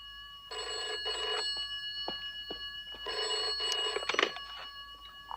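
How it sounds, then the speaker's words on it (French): An old telephone bell rings indoors in two long bursts of electric ringing. There are small knocks and clatters between the rings. "téléphone!"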